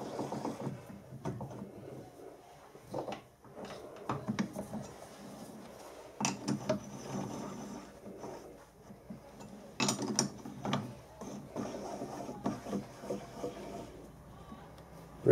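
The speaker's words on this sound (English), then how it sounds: "Then tighten the chuck jaws up. Just a little nip on each jaw." Lathe chuck jaws being nipped tight one after another to hold an offset workpiece in a workshop, giving scattered metallic clicks, ratcheting and clanks at close range with quiet gaps between them.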